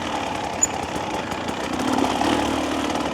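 2025 Husqvarna TE300 dirt bike engine running while ridden, a steady close buzzing drone with a slight swell in level partway through and one brief click.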